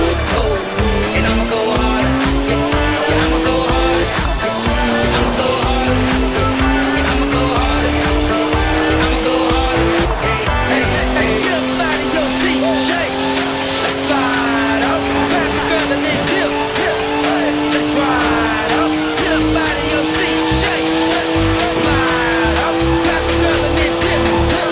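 Engine of a rear-wheel-drive BMW 1M being drifted in Forza Horizon 4, a loud sustained revving whine that rises and falls with gear changes, with tire squeal over it and continuous talk throughout.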